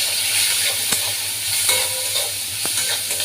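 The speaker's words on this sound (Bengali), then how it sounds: "তো এখন আমি একটু নাড়াচাড়া দিয়ে দেবো।" Chopped onions frying with a bay leaf in a pan give a continuous, close hiss of sizzling oil. Scattered spatula knocks from the stirring break through it.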